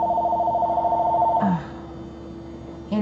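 A telephone rings with a steady two-tone electronic trill that cuts off abruptly, then a brief tone returns at the end over quiet room noise.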